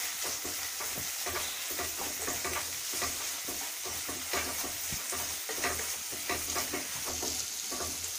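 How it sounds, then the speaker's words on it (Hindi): Onion fried with a ginger, garlic and green chilli paste sizzles steadily in a pan for shahi paneer, with a constant hiss and repeated scraping stirring strokes close by, and nobody speaking. "अब इसमें ये हम अदरक लहसुन और हरी मिर्च का पेस्ट डाल के अच्छी तरह से भूनेंगे।"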